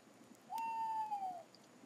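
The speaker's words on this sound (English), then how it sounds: "An owl." A single soft, steady owl hoot in a video game rises and holds for about a second, then fades, heard alone against a quiet background.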